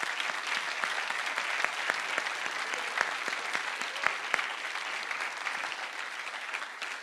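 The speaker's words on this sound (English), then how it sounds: "I want to give a big round of applause to Digital Learning Hub." An audience claps steadily for about seven seconds at a fintech recruiting event. The applause is a dense, even patter with a few sharper, louder claps scattered through it, and no voices rise above it.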